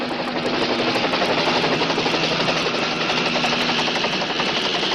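A highway patrol helicopter settles down to land, its rotor chopping in a fast, steady beat over a loud engine roar, close and continuous with no talk.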